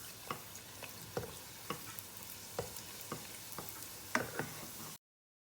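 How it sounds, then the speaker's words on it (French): Msemen flatbread dough frying in hot oil, a steady crackling sizzle with repeated sharp spatter pops roughly every half second, close and moderately loud, no voices. "Et je vais venir la mettre dans l'huile chaude à frire."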